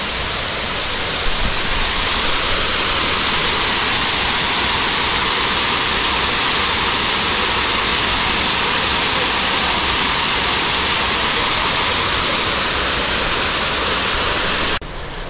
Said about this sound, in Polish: usłyszeć uroczy huk tego wodospadu